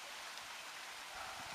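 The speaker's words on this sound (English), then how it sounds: "but it's raining." Steady rain falls on an orchard of apple and plum trees, a soft, continuous hiss that stays even and fairly faint with no other sounds.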